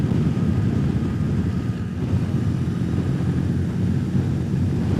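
A 2021 BMW R18 motorcycle's big boxer engine drones low and steady while riding, mixed with a constant rush of wind noise and no speech.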